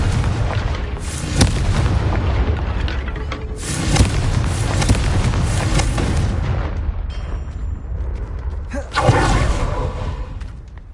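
Confringo blast spells in a video game land as loud booming explosions, three sharp bursts a few seconds apart, each trailing into a dense roaring rumble.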